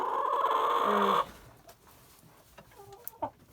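Brahma hen clucking up close in a farmyard, a loud burst of throaty calls in the first second before fading to faint scattered sounds.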